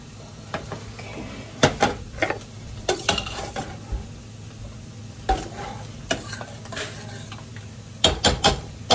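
Tempering spices sizzle in a hot pan for dal, with a steady frying hiss broken by sharp clinks and scrapes of a spoon stirring against the metal, all close and without talk.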